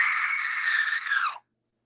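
A person lets out a loud, sustained high-pitched screech with their own voice, piercing and close, holding steady for over a second before cutting off abruptly into silence.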